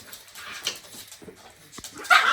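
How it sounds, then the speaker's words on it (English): A pug puppy whimpers in short, thin whines close by, followed by a sharper yip at the end. "just to see if Archie will learn from the other dogs"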